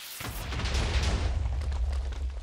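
Minecraft modpack items blowing up after being dropped on the ground: a loud, dense boom swells in and holds as a sustained rumbling roar with crackling bursts over deep low rumble, no talk.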